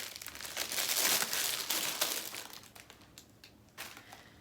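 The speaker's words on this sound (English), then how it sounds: "Sorry for the crinkling." Plastic-pleather packaging from a December beauty box crinkling close up, a dense rustling burst that peaks early, then fades to scattered softer crackles.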